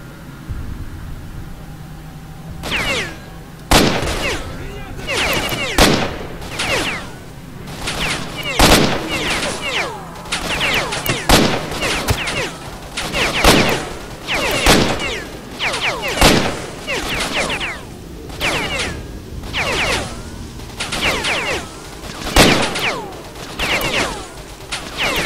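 Rapid bursts of gunfire in the video game S.T.A.L.K.E.R.: Shadow of Chernobyl, sharp repeated shots in uneven volleys over a steady background hum, close and loud throughout.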